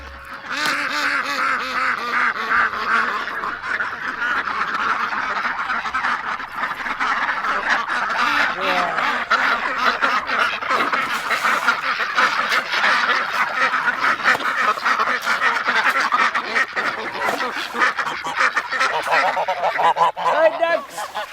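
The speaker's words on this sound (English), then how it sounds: "Hi, ducks." A flock of farm ducks quacks nonstop in a loud, busy chorus of overlapping nasal calls and honks that runs the whole time, close by.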